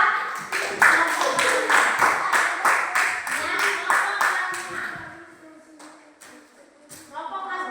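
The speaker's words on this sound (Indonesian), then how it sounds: "Tepuk tangan buat" Rhythmic group clapping in an Indonesian classroom for a group of fifth-grade students, sharp regular claps in quick succession that fade out midway, followed by children's voices and a brief speaking voice.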